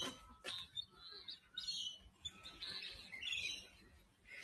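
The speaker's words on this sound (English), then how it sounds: "The ibis are generally wild." Wild ibis birds at Featherdale Wildlife Park in Australia, giving faint, scattered chirps and squawking calls in a quiet outdoor setting with light rustling.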